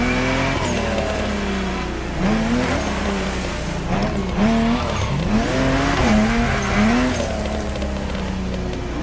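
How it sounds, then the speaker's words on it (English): A Ferrari GTO drives in the racing game The Crew Motorfest, its engine note rising and falling through gear changes with tire squeals and skids, loud and close throughout. "The car you're about to drive in this opening event is none other than the first Ferrari in the supercar bloodline, the Ferrari GTO."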